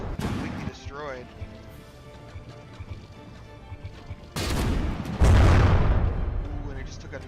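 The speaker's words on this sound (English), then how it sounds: "it just took a good shot to the side too" Naval battle sounds from the From The Depths video game, with frigates trading fire: a voice talks over a low rumble before heavy booms of gunfire and shell hits land loudly near the end.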